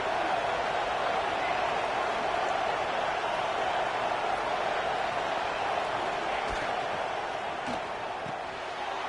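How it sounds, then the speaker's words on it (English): Stadium crowd at a football game, a steady dense roar of cheering and chatter holding at a constant loud level throughout, with faint thuds now and then. "Listen to the crowd energy here in the early going."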